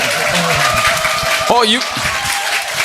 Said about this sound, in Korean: 박수 크게 합시다.